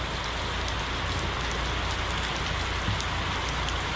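Steady light rain falls on a surface, a continuous even hiss of droplets with no voices, close and moderately quiet throughout.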